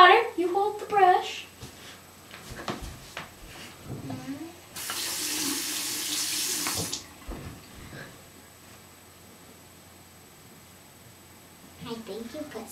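Water runs from a tap into a sink for about two seconds as a steady rushing stream, with a child and an adult talking before and after.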